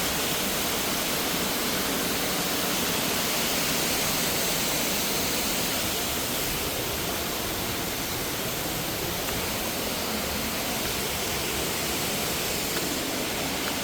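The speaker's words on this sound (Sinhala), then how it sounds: "මේ සුන්දර නරගන ඇල්ල බලන්න යන්න තියෙන්නේ" Steady broadband roar of the Nalagana waterfall rushing, continuous and fairly loud throughout, with no voices.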